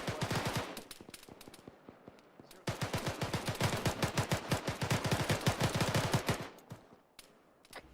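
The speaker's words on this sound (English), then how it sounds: "That sounds like you guys are taking shots" Rapid automatic gunfire in a military squad training video game, a dense volley of sharp shots lasting several seconds and heard at moderate distance, with a short burst before it.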